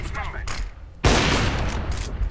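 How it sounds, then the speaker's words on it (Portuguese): Overwatch gunfire erupts as a sudden loud, sustained burst of rapid shots partway through, following a stretch of game sound with a voice talking over it. "Errou o tiro."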